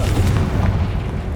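The Confringo blasting spell detonates in Hogwarts Legacy, a deep booming explosion with a rumbling low tail that fills the short moment alone.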